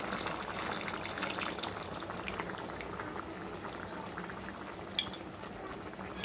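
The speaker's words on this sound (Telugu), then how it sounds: "పులుసు మరుగుతుంది కదండి" Tamarind broth bubbling at a boil in a cooking pot, a soft steady simmering hiss with faint pops, heard close and fairly quiet, one brief clink near the end, no voices.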